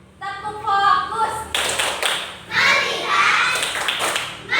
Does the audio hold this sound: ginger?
no